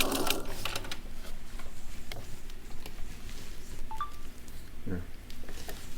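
A sewing machine fitted with a piping foot stitches along corded piping on a contoured head cover, short bursts of needle clatter with pauses and small clicks, fairly close.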